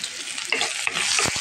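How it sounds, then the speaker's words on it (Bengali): Onion, dry red chilies and garlic hit hot oil in a frying pan, giving a loud, steady sizzle with crackling spatters and quick stirring scrapes up close. "এখন আমি পেঁয়াজ, শুকনো মরিচ, রসুন দিয়ে দিলাম।"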